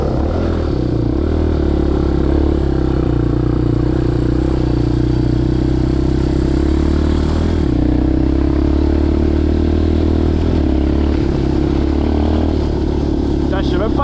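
Quad bike engine driving through wet, rough off-road terrain, a loud continuous mid-pitched motor drone with clattering over bumps, under excited talking.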